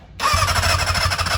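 A Kawasaki ZX-400R motorcycle with a Viper exhaust and carburetors still being tuned revs sharply after a brief silence, producing a loud, raspy, high-pitched engine wail that holds steady, close by.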